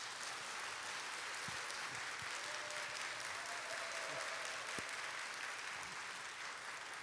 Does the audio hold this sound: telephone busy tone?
no